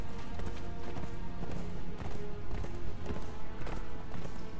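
A horse galloping under its rider in the game Conan Exiles, steady rhythmic hoofbeats thudding at a quick pace over a busy game soundscape, moderately loud and continuous.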